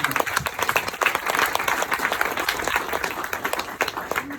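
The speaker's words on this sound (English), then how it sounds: "I applaud everyone right now who needs to give themselves a round of applause" A crowd at a childhood cancer charity event gives a dense, sustained round of applause, many hands clapping steadily and fairly close for several seconds.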